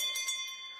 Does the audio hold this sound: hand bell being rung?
yes